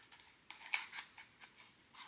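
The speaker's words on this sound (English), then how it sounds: "we're gonna have to use the scissors" Scissors snip at the tape sealing a box of Disney park pins: a run of quick, close, crisp cuts in irregular rhythm, with no talking over them.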